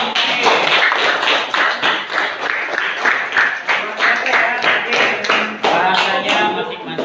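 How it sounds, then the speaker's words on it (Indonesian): Classroom of fifth-grade pupils clapping together after a group presentation, a steady run of close, sharp hand claps lasting several seconds with some voices mixed in. "Ya, beri tepuk tangan untuk"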